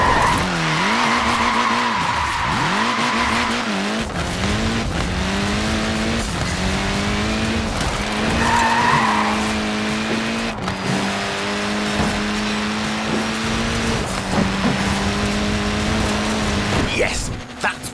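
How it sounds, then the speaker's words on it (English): Mini tyres squealing in long skids in Forza Horizon 4, with the engine droning underneath throughout the run, loud and close with no talk. "Look at that, laying down some rubber there."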